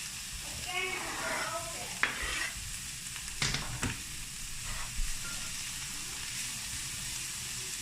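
Carrots, broccoli and onions cook in a hot pan for veggie taco filling, with a constant hissing sizzle and a few clattering stirs and utensil knocks nearby. A brief bit of background voice is heard early on.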